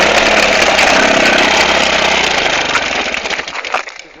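A KTM 350cc motorcycle engine starts and roars loudly and steadily with a rough, crackling mechanical rattle, then falters and sputters toward the end.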